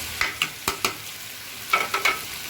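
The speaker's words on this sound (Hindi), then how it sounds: "अब इनको मैं 2 से 3 मिनट तक फिर दोबारा से भून लूँगी अच्छे तरीके से।" Chicken with salt, red chillies and crushed chillies being fried for a chicken and peas curry, with a low sizzle under a series of sharp spoon-against-pot knocks and scrapes in quick clusters, close and distinct.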